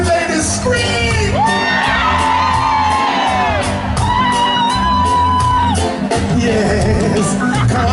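A concert crowd at a reggae show screams, whoops and cheers loudly and continuously, with high-pitched shrieks sweeping over a dense roar of voices.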